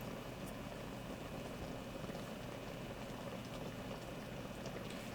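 Soy curls in sauce simmer and reduce in a pot for a plant-based orange chicken, giving a steady, close bubbling hiss that holds evenly throughout with no voices.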